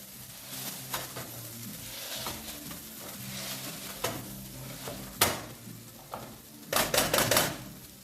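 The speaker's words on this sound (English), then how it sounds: "basically we're just going to mash these chickpeas." Cooked chickpeas being mashed with a potato masher in a pan over low heat, soft squelching presses under a faint sizzle, with a few sharp clanks of metal against the pan near the end.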